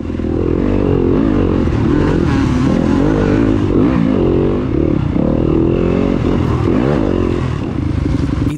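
A dirt bike engine revs hard and continuously during a SERA enduro race in New Augusta, Mississippi, loud and close with rising and falling throttle and some clatter, no talk.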